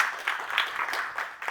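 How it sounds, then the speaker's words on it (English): Light audience applause greets a guest speaker at a professional association meeting, a brief patter of scattered clapping with uneven bursts, fairly soft and over within under two seconds. "What a very general applause for someone you've never heard speak before"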